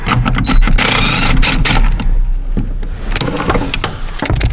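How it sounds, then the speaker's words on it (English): An impact wrench with a swivel socket rattles in short bursts while unbolting bolts under a 1990 Ford F-150, loud and close, with brief pauses between runs. "let me go grab that impact that we had with that swivel socket, get them babies unbolted"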